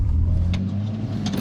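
Steady low engine rumble from inside a drift car, a continuous close hum filling the cabin with a couple of faint rattles, no talking.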